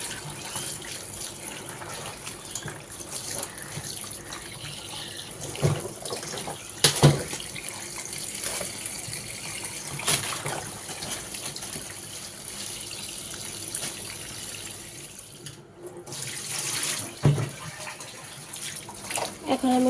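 Tap water runs steadily in a home kitchen sink to soak frozen food, a continuous splashing gush at moderate level with brief clinks and handling noises over it.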